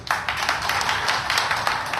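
An audience at a political speech in Vaishali claps after a Jai Bhim slogan, a brief burst of fairly quiet, steady clapping with no voices.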